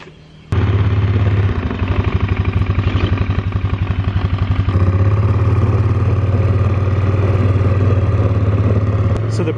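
A four-wheeler ATV engine on a homestead cranks and catches abruptly, then settles into a loud, close, rhythmic idle with a fast chugging pulse that continues steadily to the end.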